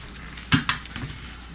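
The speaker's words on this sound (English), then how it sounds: "I'm going to dump this into this pan." Dry fish coating mixture is dumped into a pan, giving two quick clattering knocks of the container against the pan followed by a softer scrape, close and alone over a faint room hiss.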